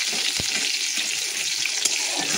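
Onions frying in hot oil in a home kitchen: a steady, bright crackling sizzle with a couple of sharp clicks or spatters, continuous throughout and without talk.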